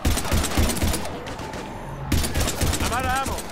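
Heavy combat gunfire in Mass Effect 3, dense automatic bursts and shots close and loud, with a brief lull mid-clip, mixed with game character voices speaking over the fire.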